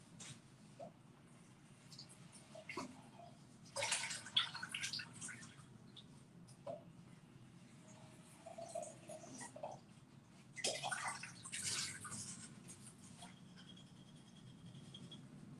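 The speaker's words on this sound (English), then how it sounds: "let me rinse some of my sprouts as well" Fresh sprouts are rinsed under running water in a home kitchen, with soft intermittent splashing and trickling bursts coming and going close by, quiet and without talk.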